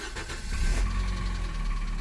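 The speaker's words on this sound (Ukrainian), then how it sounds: "машина запускається" A Nissan engine, one that had failed to start from no spark, cranks and catches, then settles into a steady idle with a faint ticking knock, loud and close with no talking.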